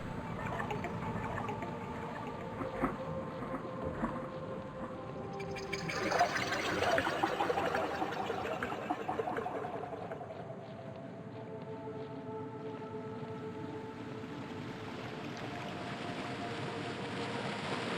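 A waterfall in the video game Dread Delusion gives off a steady broadband rush of falling water that runs the whole time, swelling briefly near the middle before settling back to an even roar.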